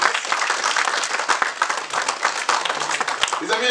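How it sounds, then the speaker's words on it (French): A crowd of the Congolese diaspora applauds at an indoor community meeting in eastern France, sustained clapping with a voice speaking over it near the end. "On va les applaudir"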